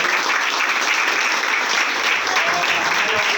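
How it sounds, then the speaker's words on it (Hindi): Loud, close audience applause, a dense continuous burst of many people clapping at a steady level for the whole stretch, with no speech over it. "तो मैं चाहूँगा हमारे कुशवाहा सर के लिए भी एक बार जोरदार तालियां।"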